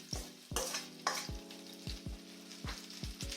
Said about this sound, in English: So you're going to put your shrimp in the pan.